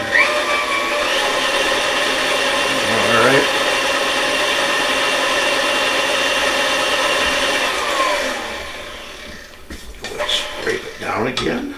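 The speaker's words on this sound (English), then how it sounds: "When we knead it and let it go in with the dough hook here" A stand mixer with a dough hook kneads brioche dough, giving a steady, loud motor whir that runs for about eight seconds and then stops, followed by a few clanks and handling noises.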